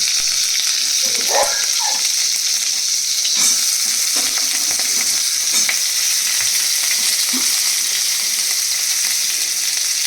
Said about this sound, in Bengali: তেলটার মধ্যে আমি দিয়ে দিচ্ছি শুকনো লঙ্কা, তার মধ্যে দিয়ে দিচ্ছি মিডিয়াম সাইজ 2টো পেঁয়াজ কুচি